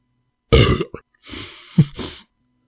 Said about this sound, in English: cut in with a loud belch